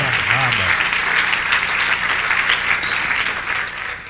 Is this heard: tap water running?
no